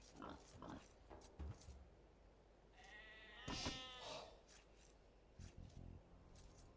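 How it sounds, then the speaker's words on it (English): A pig in a video game lets out a short, nasal grunting squeal near the middle, with sparse soft clicks and game noises around it. "we obviously found one pig"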